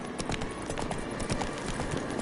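Roach, a horse in a Witcher game, gallops in a steady rapid clip-clop of hooves, even and moderately close, with no talk over it.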